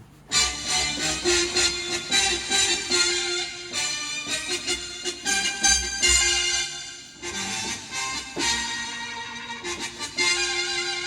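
A synthesizer bass patch on a Korg Krome EX keyboard plays a punchy, rhythmic line of stabbing notes, loud and close, with short gaps between phrases.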